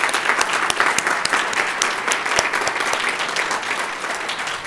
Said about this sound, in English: Let's give another round of applause for four wonderful speakers.